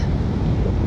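Steady wind blowing at Manila Baywalk Dolomite Beach, a continuous low rumble of gusts buffeting the microphone throughout, with no voices.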